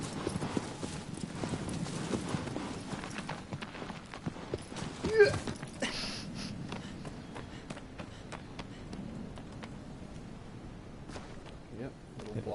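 Horse hooves clip-clop in the Shadow of the Colossus video game, a steady rhythmic patter of hoofbeats that stays moderately close and runs under quiet talk for the length of the clip.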